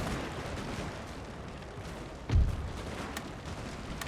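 Musket volleys and artillery fire in a Napoleon Total War battle make a faint crackling, rumbling din, broken by one heavier booming shot midway.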